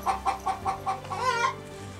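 A hen on a farm clucks loudly in a rapid series of about six close bursts, rising into a longer excited squawk near the end, then quiets.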